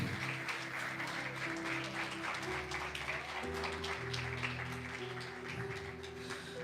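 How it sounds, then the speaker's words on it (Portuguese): A church congregation applauds during a Portuguese-language service, steady hand clapping at a moderate level, with sustained organ or keyboard chords playing underneath throughout. "Um forte aplauso a Deus."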